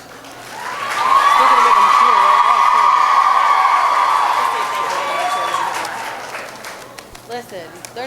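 Large assembly audience at a Girls State evening session bursting into loud cheering and applause that swells, holds for several seconds, then fades into scattered claps and voices.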